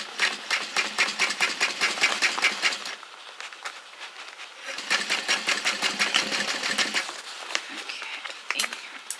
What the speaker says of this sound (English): You don't want to break a needle or something trying to sew it or mess your machine up.